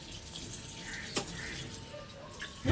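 Tap water runs steadily at a home sink while a child's face is washed, a soft continuous wash with a brief splash near the middle and a louder knock at the end.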